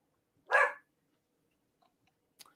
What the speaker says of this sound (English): Even Scooby's barking in the I background